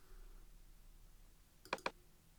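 Mouse clicks while working in image editing software, two quick close clicks in a double-click pattern against a faint quiet room.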